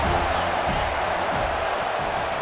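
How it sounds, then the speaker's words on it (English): Crowd at a football game on third and long, a broad steady roar of cheering and noise filling the stands, continuous and loud throughout. "This crowd with a bolt of energy on 3rd and long."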